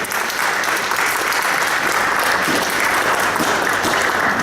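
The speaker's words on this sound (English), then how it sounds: "Can we give a round of applause to all the staff here at Alicon?" A convention audience at Alicon applauds the staff, dense steady clapping throughout, loud and close, with no talk over it.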